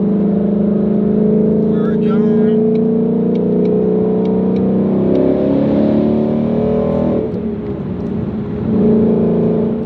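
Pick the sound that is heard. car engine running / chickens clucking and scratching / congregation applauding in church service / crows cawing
car engine running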